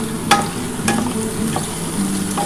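Chopped tomato hisses in hot oil alongside radish in a pan, a close, constant sizzle punctuated by a few sharp spatula clicks against the metal.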